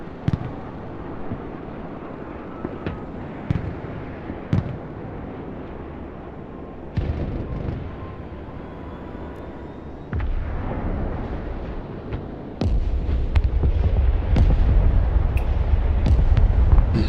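Cruise missile strikes in the Broken Arrow war video game send sharp explosive bursts over a rumbling battlefield, scattered cracks giving way to a heavier, sustained roar of blasts toward the end, with no speech.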